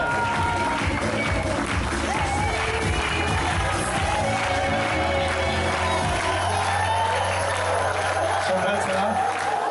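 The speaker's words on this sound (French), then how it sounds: "on peut l'applaudir" An audience at a wedding fair fashion show in Saubrigues claps loudly and steadily with some cheering, sustained throughout and easing slightly near the end.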